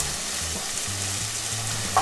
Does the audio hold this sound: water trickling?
no